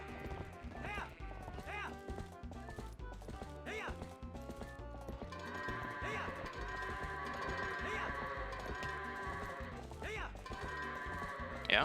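Goats in the video game Zelda Twilight Princess bleat several times over a busy game soundtrack, with clip-clopping hooves from a horse ride on the farm.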